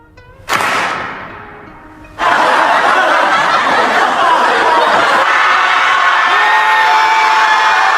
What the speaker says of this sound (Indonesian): Saat dimulai, semua menepukkan tangan, tanda penyambutan, dan mereka disuruh tertawa, menangis dan berteriak oleh pemimpin sekte ini.